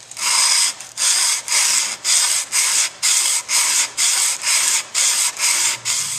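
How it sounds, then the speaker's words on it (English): Sandpaper rasps back and forth across a kitchen knife blade being hand-smoothed through progressively finer grits, about fourteen steady, loud strokes in an even rhythm with brief gaps between them. "I'm just smoothing it with progressively finer and finer grits of sandpaper."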